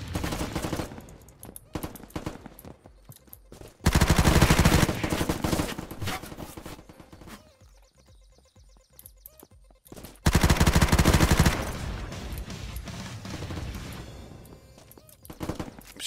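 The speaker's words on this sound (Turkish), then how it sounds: "Silah harbiden iyiymiş. Ama ekstra mag lazım ya. Çok hızlı bitiyor magazini." Machine-gun fire in the video game Unturned rattles in several long, loud, rapid bursts separated by quieter gaps with scattered shots and game noise.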